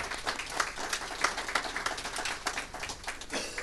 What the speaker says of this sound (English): Give God a hand clap, amen.